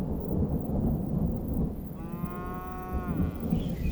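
A single cow gives one drawn-out, fairly close moo over a steady low rumble of wind and outdoor noise while cattle graze in hills.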